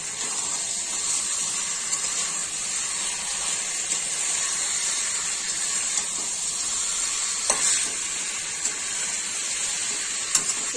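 Bay leaves dropped into hot oil in a home kitchen while cooking chicken, giving a steady, close sizzle and crackle throughout with a few small clicks and no talking.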